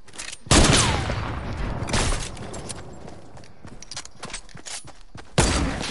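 Gunfire in the video game Fortnite rings out in loud, sharp bursts, a heavy volley opening early followed by scattered rapid shots and a second blast near the end, with no one talking over it.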